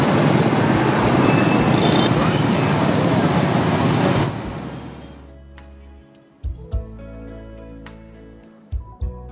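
A motorbike taxi in Ho Chi Minh City rides with a loud, steady engine and road roar for about four seconds. The noise then drops to a quieter idle broken by a few sharp clunks and knocks.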